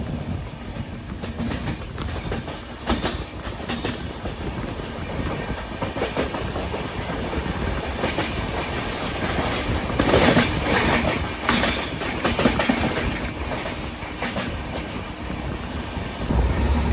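Mumbai LTT to Kakinada Port Express train running at cruising speed, with steady loud rumble and rhythmic clickety-clack of wheels over rail joints, heard from inside the moving coach throughout.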